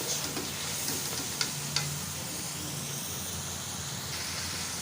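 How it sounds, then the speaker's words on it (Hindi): Tomatoes and masala fry steadily in a pan with a constant soft sizzle, broken by a couple of brief clicks from stirring, and no voices are heard. "इनको अच्छे तरीके से भून लेंगे।"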